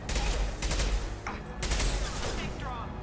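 Rapid gunfire from a weapon in the video game Mass Effect 2, a dense, continuous burst of shots that stays loud throughout, with a voice speaking over it.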